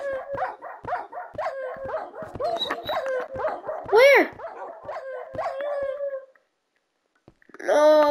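Several Minecraft dogs barking and howling in quick overlapping bursts, loud and close, with a long howl in the middle, a brief pause, then more barking; a person speaks briefly.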